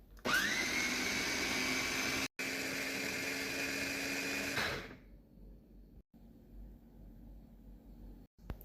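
A blender mixing oats and cold water whirs loudly at high speed for several seconds, briefly cut, then stops, leaving a quiet low hum.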